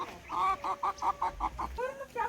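A chicken clucks close by in a quick run of about eight rhythmic clucks, ending with a couple of drawn-out calls.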